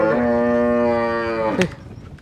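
A dairy cow at a farm gives one long, loud, close moo lasting about a second and a half, ending abruptly, with no talking.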